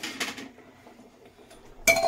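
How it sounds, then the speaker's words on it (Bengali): Metal cookware clinks while a pressure cooker is opened and boiled potatoes are strained: a few light clatters at the start, quiet handling in between, then a sharper ringing clank at the end. "এবার আমি প্রেসার কুকারটা খুলে আলুগুলো ছেঁকে নেব।"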